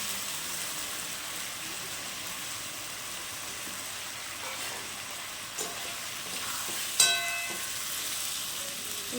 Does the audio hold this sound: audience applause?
no